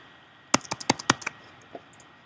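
A keyboard shortcut, Command D, tapped on a computer keyboard: a quick cluster of six or seven crisp clicks close by, followed by one fainter tap, in an otherwise quiet room.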